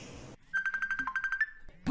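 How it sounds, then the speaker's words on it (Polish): A phone call being placed gives a steady run of short, evenly spaced electronic ringing pulses, clear and close, ending with a brief burst of other sound. "A ja sobie tak na końcu odcinka zadzwonię do Bagiecuna."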